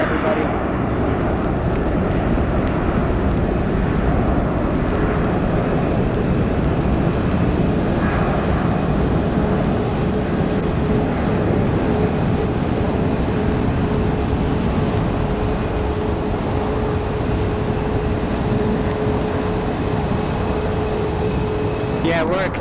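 A plane taking off at Phoenix Sky Harbor Airport, heard from very near the takeoff point: a loud, continuous engine roar holds steady throughout, with voices faintly beneath it.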